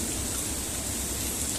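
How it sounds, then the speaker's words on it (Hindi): Heavy rain pours steadily outdoors, a dense, uniform broadband hiss filling the short stretch with no pauses or voices. "ओह क्या गंदी बारिश है।"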